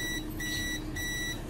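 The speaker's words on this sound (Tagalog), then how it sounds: "lipat natin sa continuity test. Beep siya" A multimeter set to continuity mode beeps in a steady high tone, broken into a few short-to-medium bursts over a background hum, while a wire with a loose connection is being tested.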